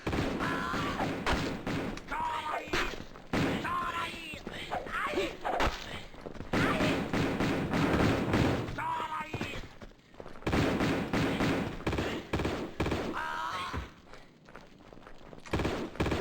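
Mercenaries shooting in a Tomb Raider video game while the player climbs a ladder; dense, loud rattling gunfire with thuds and impacts runs almost continuously, mixed with game sound and brief breaks.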